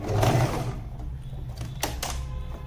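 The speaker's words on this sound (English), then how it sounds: "I'm just doing reverse machining here for 2-3 stitches to secure the seam." A domestic sewing machine runs a short burst of reverse stitching to lock a seam on a shirt placket binding, a steady close mechanical whir that hums on, then a couple of sharp clicks near the end.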